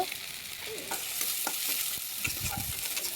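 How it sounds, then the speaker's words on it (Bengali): Tomato paste, turmeric powder and salt are stirred in a hot kadai for a pabda fish curry, with a steady sizzle and scraping spoon strokes that grow busier near the end. "লবণ দিয়ে ভালো করে নেড়ে নেব।"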